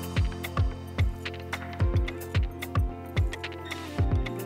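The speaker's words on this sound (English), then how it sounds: "That's that yolk inside of here that is petrified." Dried, petrified egg yolk rattles inside a hollow egg decoration as it is shaken, giving about nine evenly spaced dull knocks and clicks, close and moderately loud.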